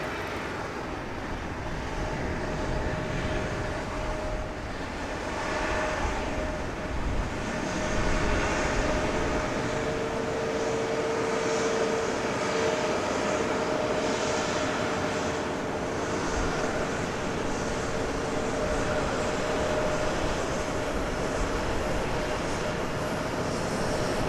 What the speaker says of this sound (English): We do have that other CRJ departing.